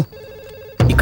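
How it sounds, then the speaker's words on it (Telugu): A phone ringing nearby, a steady electronic tone that cuts off as a loud, muffled rustle starts. "ఇక్కడ పక్కన రింగ్ అవుతుంది"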